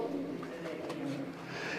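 Blue pigeons coo softly in low, throaty murmurs, a close and continuous burbling with no voices over it.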